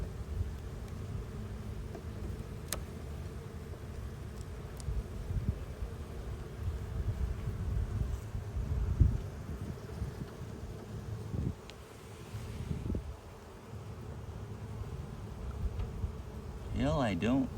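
Honeybees buzz in a steady, dense drone during a hive inspection, heard close with some wind rumble on the microphone and people talking quietly over it.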